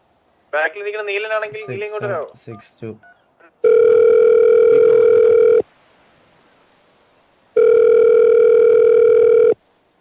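A telephone tone plays over a speakerphone in two long, steady, loud beeps separated by a pause. A voice speaks briefly just before the tones.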